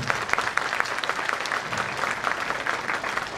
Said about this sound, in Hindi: और जोरदार तालियां